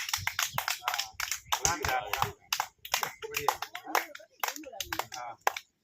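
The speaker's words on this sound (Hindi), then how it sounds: "ताली बजाओ ताली बजाओ ताली बजाओ ताली बजाओ" Children clap loudly together with a teacher in a classroom, bursts of sharp, uneven claps arriving in quick repeated rounds, close and lively, with a voice urging them on between the bursts.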